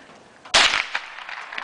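A single loud, sharp gunshot from a loaded gun cracks out outdoors in Mississippi and fades quickly into a quiet tail.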